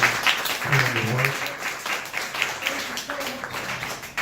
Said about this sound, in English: Put your hands together one more time for D. Allen.